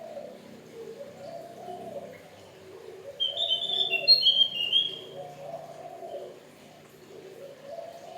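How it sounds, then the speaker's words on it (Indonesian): A small Javan white-eye sings in a garden in the evening, a bright high burst of loud chirping and whistled notes rising midway over a quieter background of low cooing and hum. "Burung kebun kecil tapi lumayan suaranya, lantang juga nih."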